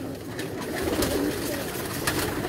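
Pigeons on a rooftop coo in soft, repeated throaty calls against a steady background hum of outdoor noise, with no one speaking.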